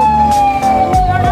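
An ambulance siren sounds loud and close near a cemetery during All Saints Day crowds, its steady high wail riding over the low rumble of vehicle engines.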